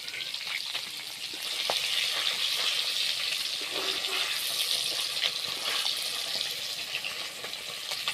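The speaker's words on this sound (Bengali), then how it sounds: "মাছগুলো ভাজা হয়ে গেছে, মাছগুলো তুলে নিচ্ছি।" Fish frying in hot oil in a wok for a Bengali fish curry, a steady crackling sizzle that holds loud and continuous throughout, close to the pan, with no talk over it.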